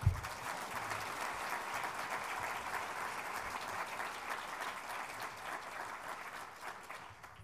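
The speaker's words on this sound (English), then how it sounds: "I'm not above begging for your applause" Audience applause in a conference hall at the 2016 National Mentoring Summit opening session, a steady, moderately distant wash of many hands clapping that fades slightly toward the end.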